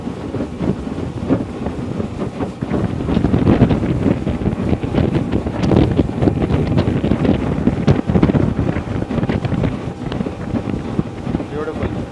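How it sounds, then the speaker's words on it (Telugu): A small boat travels through a water village near Brunei's capital. Heavy wind buffets the microphone in a constant roar, with the hum of the boat and the wash of the water faintly underneath. "బోట్ ఇంత సింపుల్గా వెళ్ళిపోతుంది చూడండి."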